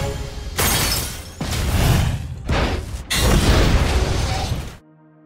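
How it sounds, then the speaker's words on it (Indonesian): A ship explodes in a series of heavy, roaring blasts and crashes that rumble loudly in successive bursts, then cut off abruptly to near silence. "dan kapal itu pun meledak."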